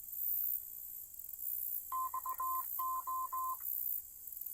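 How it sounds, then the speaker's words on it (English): A Muzen Wild Mini heavy-duty Bluetooth speaker plays its power-on chime, a short series of clear electronic tones in two quick groups, faint and alone against a quiet background. "When you turn this thing on"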